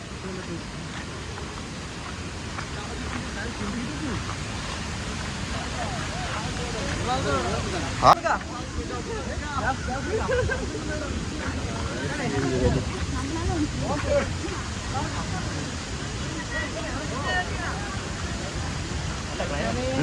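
Rushing water from Hogenakkal waterfalls among the rocks makes a constant broad roar throughout. Someone talks over it, with one sharp click partway through.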